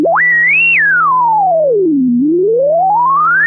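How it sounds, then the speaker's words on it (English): A Mono Fury synth plugin modeled on the Korg Mono/Poly, with its filter self-resonating over a steady buzzy tone, gives a loud, whistling, robot-like sweep that rises, falls slowly and climbs again, alone and up close. "That's where you get all your R2-D2 sounds."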